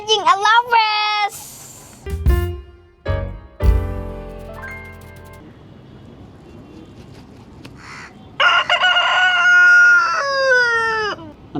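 A rooster crows loudly and close, a long rising call at the start and another strong drawn-out crow near the end, with a busy yard of other bird noise in between.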